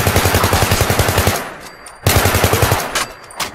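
Rapid automatic gunfire from a weapon in the video game Fallout 4 rattles in two close, loud bursts separated by a short pause.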